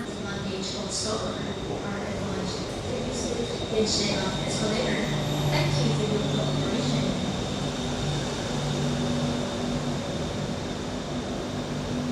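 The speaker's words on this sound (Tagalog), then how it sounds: "Ayan na yung train." Train pulling into a station in Bangkok, heard as a steady rumbling roar with a low hum, continuous and fairly loud for the whole stretch, with faint background voices.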